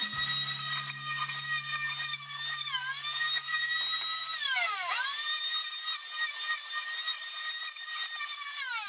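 High-pitched whine of an electric hand planer flattening reclaimed lumber table boards, a continuous close, loud tone that dips and recovers in pitch as the blade bites into the wood.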